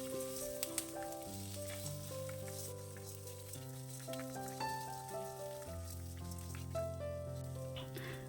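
Onions sauté in a pan for tomato chutney, a faint hiss and crackle heard under steady background music, with no talk.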